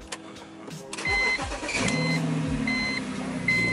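A BMW Z4 convertible's engine cranks briefly and catches, settling into a steady running hum while an electronic chime beeps repeatedly in the background.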